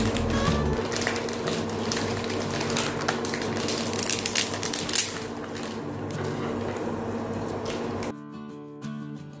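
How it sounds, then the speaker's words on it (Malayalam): Two blocks of instant noodles are broken into boiling water, with crunching and crackling bursts over a bubbling background, followed by a quieter hum near the end. "ഇതിനകത്തേക്ക് പൊട്ടിച്ചിടുവാണ് 2 നൂഡിൽസ്."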